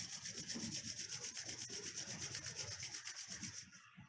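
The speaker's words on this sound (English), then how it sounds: "Slowly rub your both palms" Palms rubbed briskly together during a yoga warm-up, a steady rhythmic swishing friction repeated in quick even strokes, close and clear, fading out at the end.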